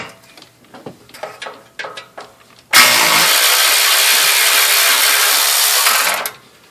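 Matco 1/4 inch power tool spinning off engine studs: a few light metallic clicks and taps, then a loud continuous high whirring burst that lasts about three and a half seconds before cutting off.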